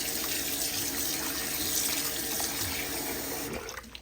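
Tap water runs steadily into a sink as raw chicken for curry is rinsed beneath it, a close splashing hiss that cuts off near the end.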